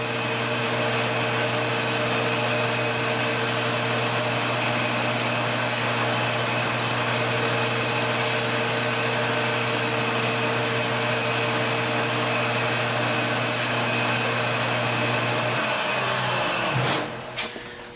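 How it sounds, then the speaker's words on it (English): Electric wood jointer running steadily as guitar back pieces are edged, a continuous high-pitched motor whine with cutter hum that holds evenly for the whole stretch, then winds down at the end. "run these two pieces through the joiner, which really helps to put a fine straight edge on it"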